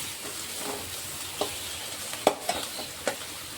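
Onion, green chili, garlic and ginger fry softly in hot oil for a fenugreek-leaf and rice-flour kadubu, a low steady sizzle broken by a few sharp spatula taps and scrapes against the pan.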